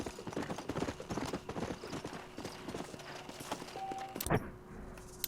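Horse hooves clip-clopping in a steady rhythm while riding in the video game Red Dead Redemption, set in New Austin, with a brief louder thump near the end and no talk.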